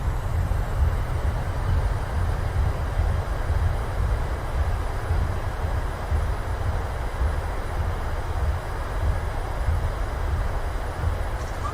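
Boeing 737-800 thrust reversers roar with a steady, dense rumble during landing rollout in a flight simulator, loud and continuous throughout with no breaks.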